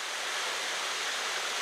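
Small forest waterfall with lightly splashing water, a steady, even rush with no breaks or other sounds.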